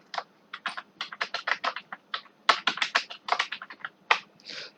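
Rapid typing on a computer keyboard during an online programming class: a close, dry string of clicking keystrokes in quick bursts with short pauses, alone and clearly heard.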